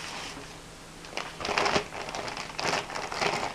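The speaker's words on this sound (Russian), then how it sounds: "Ох, какой пакетик." A plastic parcel bag crinkles as it is opened, quiet at first, then several close, sharp rustling bursts in irregular clumps.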